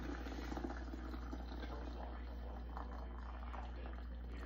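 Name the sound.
maple syrup being poured through a strainer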